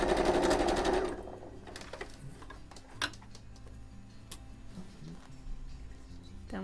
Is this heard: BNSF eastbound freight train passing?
no